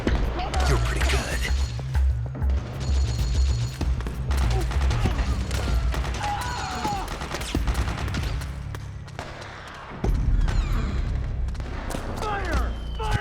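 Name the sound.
suppressing gunfire in Metal Gear Solid 4 video game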